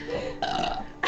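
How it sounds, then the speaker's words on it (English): A loud burp from a burping contest among friends, one long belch followed by another brief belch right after, close to the listener with no talk over it. "we're doing a burping contest"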